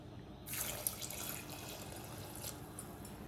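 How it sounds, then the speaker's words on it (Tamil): Water poured from a tap or jug into a pressure cooker of sambar mixed with spices and salt, a steady splashing flow that starts after a short pause and runs on, close and moderately loud. "தண்ணி விட்டுக்கலாம்."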